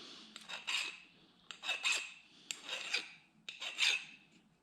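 A hand file rasping burrs off a small metal part, four distinct scraping strokes in a steady rhythm, close and crisp against a quiet background.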